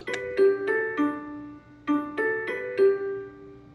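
A Google Nest Doorbell (Battery) chime plays through Google Home speakers as two repeated sets of bright, ringing descending tones, each strike sustaining and overlapping the next, clear and fairly close.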